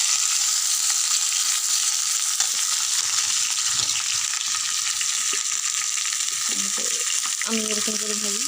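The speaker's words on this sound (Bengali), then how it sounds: "পটল ভাজলাম" Slices of pointed gourd (potol) sizzle and crackle in hot oil in a home kitchen, a steady frying hiss with occasional stirring clinks and utensil scrapes toward the end.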